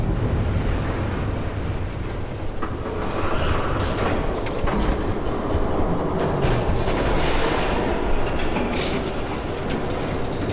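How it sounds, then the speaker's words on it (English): Train approaching in the video game Batman: The Telltale Series, a dense, loud rumbling roar with rail clatter and occasional high wheel squeals, holding steady throughout. "There's a train coming."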